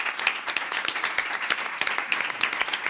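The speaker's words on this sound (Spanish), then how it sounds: "un aplauso para ella" An audience at a talk applauds continuously, a dense, even patter of many hands clapping together, steady and fairly close for the whole stretch.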